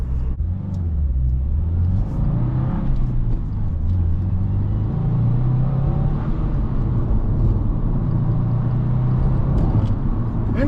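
A 2024 Subaru WRX Limited with a 6-speed manual drives past its engine hum, a steady close rumble with pitch rising and falling through gear changes and continuous road noise.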